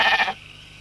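A single short sheep bleat on a farm, fairly loud and close, cutting off after a moment into quiet background.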